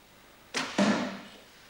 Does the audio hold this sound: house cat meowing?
no